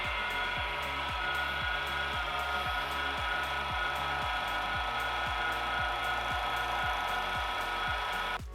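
A spinning wood lathe runs at high speed while micro mesh abrasive polishes the turning piece, giving a steady whir under a regular, rapid rubbing rhythm, close and continuous with no voices.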